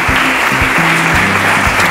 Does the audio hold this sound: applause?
yes